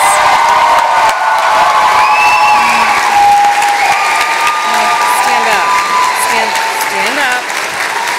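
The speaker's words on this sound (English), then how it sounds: "Please give yourself and all of the other graduates another congratulations and round of applause." A graduation celebration crowd applauds and cheers, with whoops and scattered shouts over steady clapping, while an amplified voice and other voices carry through the room.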